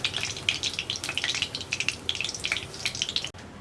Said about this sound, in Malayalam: ഇതുപോലെ തന്നെ ബാക്കിയിരിക്കുന്ന പീസുകളെല്ലാം നമുക്ക് ഫ്രൈ ചെയ്തെടുക്കാം